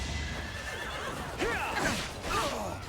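A horse in the video game Fire Emblem: Three Houses gives a short, moderately loud whinny with rising and falling squeals over a faint background hum.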